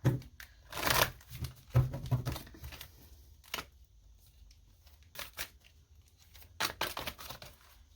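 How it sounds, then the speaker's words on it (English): Tarot cards are shuffled in several short riffling bursts, then a single card is drawn, with soft papery flicks and taps close to the microphone in a quiet room. "So let's see what the cards want to show my Aries. Just going to pull one card."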